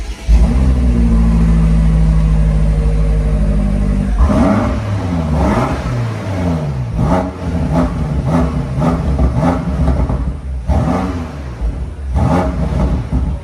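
A BMW M8 Competition 2020 engine starts with a loud, steady low idle rumble, then revs up and down in a series of rising and falling surges, close and strong throughout.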